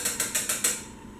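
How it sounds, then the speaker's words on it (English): A wire whisk stirring a pot of cream of broccoli soup: five quick, evenly spaced metallic scraping strokes, close and fairly bright, then fading into quiet. "I just stir it with my wire whisk to make sure that's happening."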